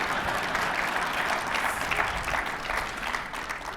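A live audience at a talk with a state governor claps loudly and steadily, a full, close round of applause with no voices over it.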